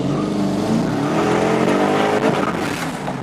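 A twin-turbo car on Mickey Thompson tires accelerates hard, its engine roaring loud and close with a rising, rough exhaust note throughout.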